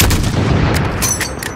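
A sniper rifle shot rings out in the Call of Duty: Modern Warfare 3 campaign. It is a loud booming report with a long rumbling tail, followed by a few sharper distant cracks.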